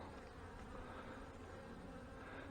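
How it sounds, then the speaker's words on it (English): Honey bees buzz inside an open hive among frames of capped honey during an early-season inspection, a dense, steady, close drone that fills every moment without a break. "You see the bees, there's lots of bees down in here."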